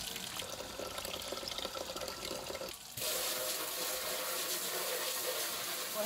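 Tap water pours into a kitchen sink over mandarin oranges being rinsed, a steady splashing stream that briefly cuts out and then resumes louder.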